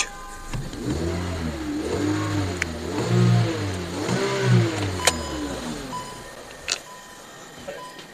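A car engine, from a Skoda Octavia or Hyundai Solaris, idling smoothly and then revved several times in rising and falling swells, heard close with no talking, settling back toward idle near the end.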